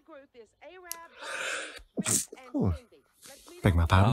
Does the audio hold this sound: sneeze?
yes